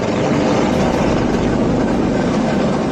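A rescue helicopter over a flooded region gives off a steady, dense rotor and engine roar, loud and continuous with no voices.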